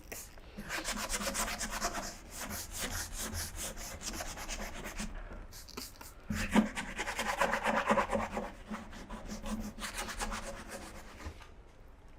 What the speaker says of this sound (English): get a cloth and start getting a bit more into those dark areas by wiping back